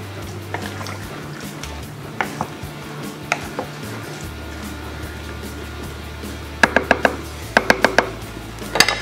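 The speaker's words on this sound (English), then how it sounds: "I'm gonna give this another mix." Onions stirred in a slow cooker: soft wet squishing and scraping, with a few sharp clinks of a utensil against the pot, especially near the end.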